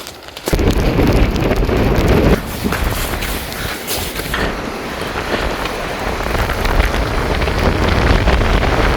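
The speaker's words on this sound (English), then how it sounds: "the rain's like beating on my face" Heavy rain and gusting wind buffet a microphone on a slight incline in Hooker Valley near Mount Cook, a loud continuous roar of rain and wind noise with no talking.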